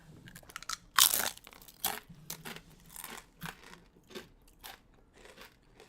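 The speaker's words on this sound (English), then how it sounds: "Let's get a crunch." Crispy, hard garlic chips are bitten and chewed up close: one sharp, loud crunch, then a run of smaller crackling crunches as the chip is chewed, with no talk.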